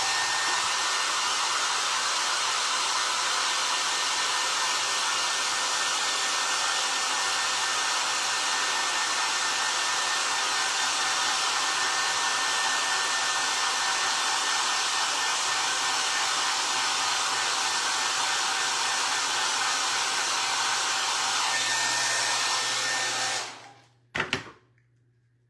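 Hair dryer blowing on a craft drum for a primitive ghost frame, a loud steady close whir that runs unbroken for over twenty seconds before switching off with a brief clatter.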